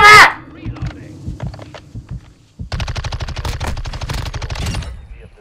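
Rapid automatic gunfire from a submachine gun in a Call of Duty: Modern Warfare match, loud, dense bursts of shots after a short lull, with a player shouting over the start.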